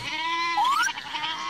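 A single sheep bleats close by, a wavering, nasal call that rises in pitch partway through and lasts about a second.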